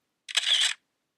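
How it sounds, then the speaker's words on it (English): A single camera shutter sound effect from iMovie plays: one short, crisp mechanical click-and-whir burst lasting about half a second, close and isolated in silence. "Now luckily they have the same sound here as they did on the Mac, which was camera shutter."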